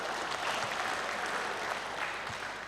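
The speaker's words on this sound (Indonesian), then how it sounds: "Tepuk tangan buat kita semuanya" A crowd at a motivational talk breaks into applause. The clapping is a dense, steady wash of many hands, moderately loud and unbroken from start to finish.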